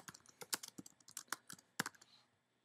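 Typing on a computer keyboard: a close, quiet run of rapid, uneven key clicks lasting about two seconds, then stopping.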